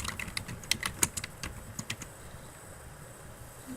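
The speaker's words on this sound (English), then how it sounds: "let's go ahead and type that in the title" A book title being typed on a computer keyboard: a quick burst of close, light key clicks that tapers off into quiet.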